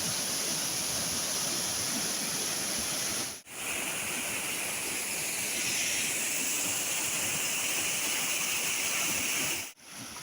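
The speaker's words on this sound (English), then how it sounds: "a lovely pack horse bridge, and then the waterfalls are just there" Waterfalls tumble near Lumb Bridge, an old stone packhorse bridge on the moors, giving a steady, loud broadband rush of falling water that holds evenly throughout, briefly cut by two short drops near the start and end.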